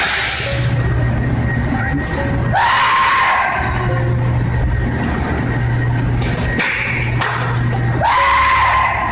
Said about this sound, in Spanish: se puede escuchar cómo unos aterradores gritos hacen eco a lo largo de todo el establecimiento